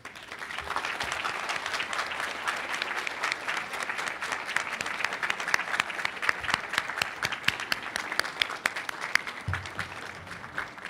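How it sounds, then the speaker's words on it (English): Graduates of a physician assistant program applaud their families at a completion ceremony, a sustained crowd clapping with many sharp individual claps, moderately distant and steady throughout. "say thank you with a round of applause"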